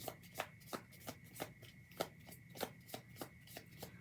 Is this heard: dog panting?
no